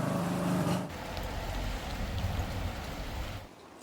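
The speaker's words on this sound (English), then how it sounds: "The moment I get it on the axle stands, it starts raining." Rain falls outdoors around a Rover 25 raised on axle stands for repair, a steady close patter and hiss, heavier and louder in the first second, then easing to a constant wash that drops away near the end.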